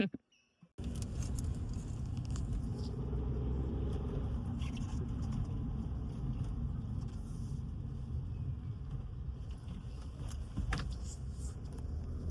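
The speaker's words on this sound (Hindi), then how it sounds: "गाड़ी चल रही बहुत स्पीड में" A car speeds along a road on the way to a wedding, heard from inside as a steady, loud engine and road rumble that continues throughout after a brief quiet start.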